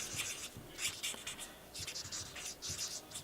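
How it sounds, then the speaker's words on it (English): Rhythmic scratchy strokes of a lighter-coloured pencil burnishing a small area on stamped cardstock, close and quiet, repeating in short rubbing bursts with no voices. "I'm going to come back in with my lighter and burnish this little area"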